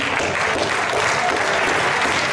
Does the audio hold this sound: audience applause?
yes